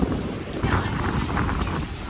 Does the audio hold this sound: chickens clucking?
no